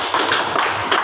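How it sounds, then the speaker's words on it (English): A classroom of students applauds a classmate during an English lesson, a brief burst of dense close clapping heard alone. "Let's give applause to Margin."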